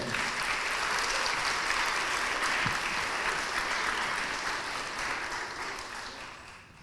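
Sustained applause from a sizable crowd at a city council debate, loud and steady, gradually tapering off toward the end.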